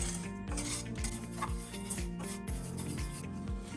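A spoon scrapes steadily around a pan as sugar melts over a medium-high flame for an eggless fruit cake, in a regular rhythm of about two strokes per second, close and continuous with no talking.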